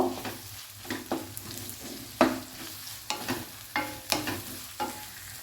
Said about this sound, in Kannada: ಇದನ್ನು ಸ್ವಲ್ಪ ಕಲರ್ ಸ್ವಲ್ಪ ಪಿಂಕಿಶ್ಗೆ ಬರೋವರೆಗೆ ನಾವು ಇದನ್ನು ಫ್ರೈ ಮಾಡು.